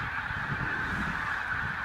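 A large feeding flock of pink-footed geese honks continuously in winter fields at Holkham, a dense overlapping chorus of calls at moderate distance.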